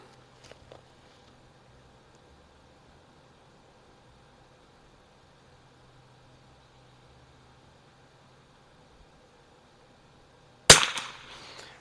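One loud, close gunshot from a 1974 Remington 540X rifle firing Geco ammunition at 50 yards, a sharp report with a short decaying tail after long quiet outdoor ambience and a few faint clicks.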